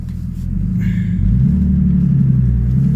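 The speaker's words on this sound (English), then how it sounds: "as you guys can see, the idle is perfect" A turbocharged BMW E36 engine idling: a loud, steady low rumble that holds even and close for a few seconds, with no voices.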